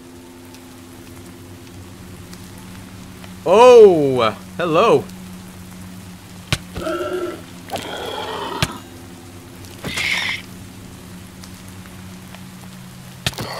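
Steady rain falls in the Minecraft modpack Scape and Run: Parasites, a soft continuous patter under the game's ambient hum, while players talk over it with brief exclamations.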